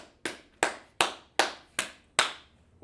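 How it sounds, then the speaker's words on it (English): Six sharp, evenly spaced claps ring out in a slow, deliberate rhythm, each a crisp close hand strike with a short decay, during a religious gathering. "Clap it up,"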